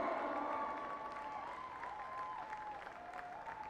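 Applause rises from a crowd for the winning team at a school under-12 football final, steady clapping throughout, fairly distant and moderately loud, with a voice ringing over it through a public address system.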